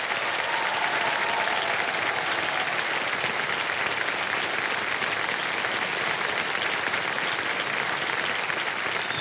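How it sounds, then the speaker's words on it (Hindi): A KBC game show studio audience applauds, a dense, sustained wash of clapping from many hands, loud and even throughout with no talk over it. "ताली बजते रहे"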